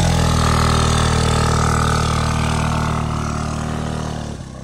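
A motorcycle engine, ridden on a group ride near Kakani, Nuwakot, hums loudly and close with a steady idling drone before fading and cutting off near the end.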